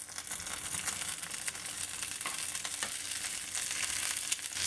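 Onion fries in a pan alongside softened chiles for garlic-lemon grilled chicken breasts, giving a dense, steady sizzle with crackles and occasional stirring scrapes, close and continuous.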